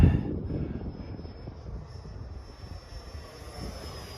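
A Freewing English Electric Lightning 64mm EDF radio-control jet makes a low pass, its ducted-fan whoosh loud at first and then fading to a steady distant rushing hiss with wind noise.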